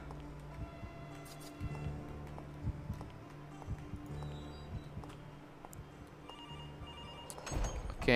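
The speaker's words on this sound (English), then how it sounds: "Okay, I got a phone call." A telephone rings with a repeating bell pattern in a horror video game, fairly faint amid dark ambient game sound, with scattered clicks and a louder burst of noise near the end.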